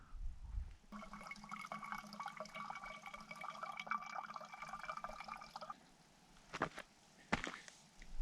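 Filtered lake water trickles and pours steadily from a water filter's clean-side outlet, a soft continuous flow that stops and is followed by a few faint knocks and drips.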